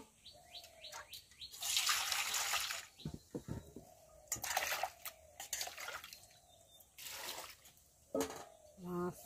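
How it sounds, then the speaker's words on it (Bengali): Vegetables such as drumsticks, potatoes and pointed gourd being rinsed in water in a village kitchen: intermittent splashing and sloshing bursts, with bird chirps in the background. "এই যে তরকারি ধুয়ে নিচ্ছে।"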